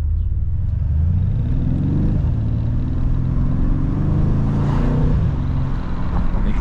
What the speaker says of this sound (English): Hear our big V8 growling slightly.